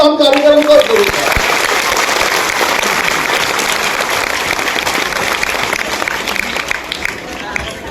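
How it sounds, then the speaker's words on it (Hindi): A full hall of people claps together at a ceremony, a loud, dense, sustained wave of applause that follows a brief voice at the start and keeps going evenly to the end. "एक बार पूरा सदन तालियां बजाओ"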